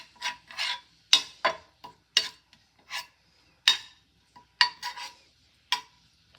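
Marinated paneer pieces in a fully heated pan give off a string of short, sharp scraping and sizzling bursts, about a dozen irregular strokes close up, with no talking.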